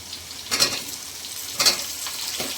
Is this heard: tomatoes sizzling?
yes